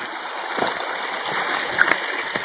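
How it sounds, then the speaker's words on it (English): A small California stream sluice box with creek water running through it, giving a steady broadband rush with a few brief splashy spatters, close by and alone. "I've got the little California sluice box stream sluice set up here, just running perfectly"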